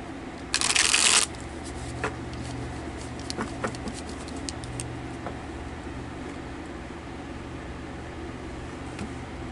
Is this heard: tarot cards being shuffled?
yes